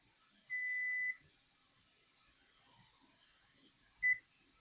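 Two electronic beeps from a kitchen timer during pressure canning of potatoes, a longer tone followed a few seconds later by a short one, over a faint background hiss.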